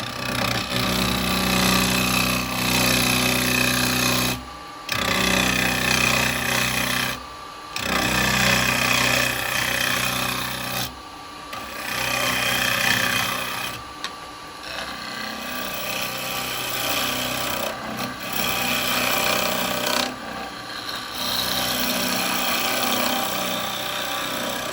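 A wood lathe spins while a spindle gouge cuts into the turning wood for a Japanese birdhouse, giving a dense scraping hiss broken by several short pauses as the tool lifts off, fairly close and steady.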